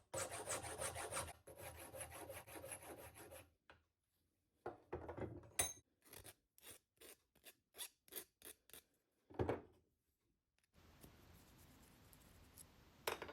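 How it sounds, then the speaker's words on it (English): A copper pipe held upright in a vise having its crimped ends filed flat: bursts of rasping strokes, first long continuous scraping, then a run of short, evenly spaced strokes, close and fairly quiet. "Then I grip the pipe in the vise vertically and file the ends flat."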